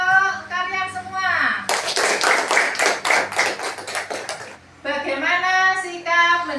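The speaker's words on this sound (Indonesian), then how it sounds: "tepuk tangan untuk kalian semua" Students in a classroom clap for about three seconds in a rapid, fairly even burst of many hands, close and loud, with a speaking voice before and after the applause.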